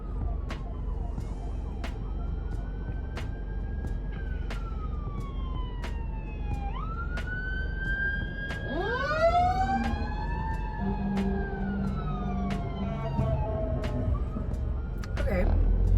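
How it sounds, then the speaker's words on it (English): Police car and fire truck sirens wail and sweep in pitch as the vehicles pass on a street, growing louder midway through over steady traffic rumble, with a faint voice at times. "Police, fire truck."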